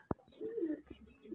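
A fighter pigeon coos softly once in a short, low, rolling call, preceded by a sharp click, fairly faint and close.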